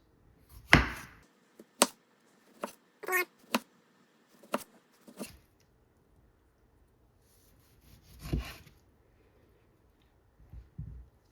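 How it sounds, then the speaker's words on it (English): A knife slicing tomatoes into thin pieces on a cutting board, with a series of crisp, separate chops and taps spaced irregularly, close up and fairly quiet in an otherwise still kitchen. "let's get started with cutting all of our vegetables up. And we're just gonna make real nice thin cuts"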